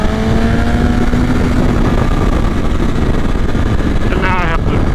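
A BMW motorcycle engine drones steadily while riding, with wind rushing past the microphone and a rising whine as the throttle is worked, loud and continuous throughout.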